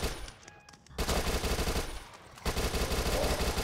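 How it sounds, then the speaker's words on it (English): A submachine gun in the Dead Nation zombie video game fires rapid, rattling bursts, loud and close, with a short gap between volleys. "SMG."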